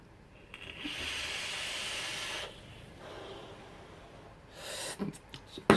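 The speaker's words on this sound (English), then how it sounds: "so another quick vape" A quick vape drawn on a 5G Vapes Supercar BF squonk mod: a steady airy hiss of inhaling lasting a couple of seconds, followed by a softer exhale, close and quiet with a few small clicks at the end.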